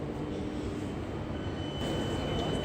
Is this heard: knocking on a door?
no